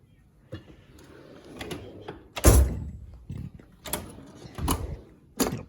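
A heavy equipment technician's toolbox drawer sliding open, a loud metallic rattle and thunk among several quieter clicks and clatters of tools shifting inside.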